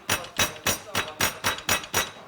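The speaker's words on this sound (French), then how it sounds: "Prends le marteau pour frapper." A hammer strikes eight times in a steady, even rhythm, each blow loud, sharp and close with a short ringing decay.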